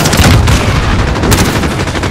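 Loud, dense automatic gunfire in Call of Duty: Modern Warfare multiplayer, with an MP5 in play, rapid overlapping shots and booms continuing without pause across a short stretch of battle.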